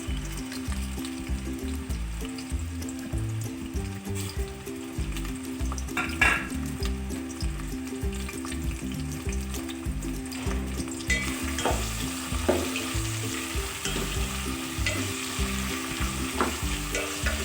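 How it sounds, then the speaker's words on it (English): Chopped onions frying in hot oil for a homemade biryani, a steady loud sizzle running the whole way with repeated scraping stir strokes and occasional utensil clinks, close up and with no talk. "Once the oil is hot, and you can add the onion."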